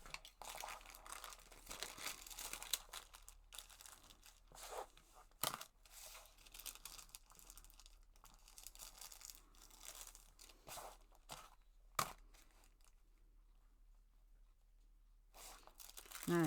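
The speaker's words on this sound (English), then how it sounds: "just going to trim off that excess of that last piece" Scissors trimming excess fabric from a foundation-pieced Christmas tree quilt block: quiet, close snips and papery crinkling in scattered bursts, with a near-silent stretch before a final cut.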